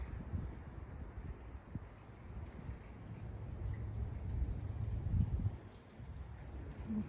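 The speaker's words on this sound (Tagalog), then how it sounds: "Super lakas ng hangin." Strong night wind blows steadily outdoors, a dense low rumbling roar buffeting the microphone and swelling in gusts, with no talk over it.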